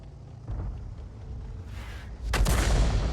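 Enemy self-propelled artillery firing in a tier 9 World of Tanks battle: a low rumbling backdrop, then a loud, sharp boom near the end that rolls into a heavy sustained blast.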